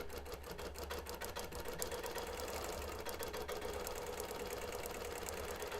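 A BERNINA Q-Matic longarm quilting machine runs steadily at a slowed pace as it stitches a flat fabric border, giving a continuous close mechanical whir with fine rapid ticking throughout.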